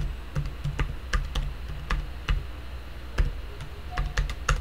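Password being typed on a computer keyboard at a desk, a quick irregular run of crisp, close key clicks with short pauses between bursts, no talking.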